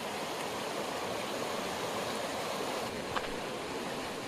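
Water flowing in a shallow stream near Orang National Park in Assam, a steady soft rushing wash, continuous and fairly faint, with no voices.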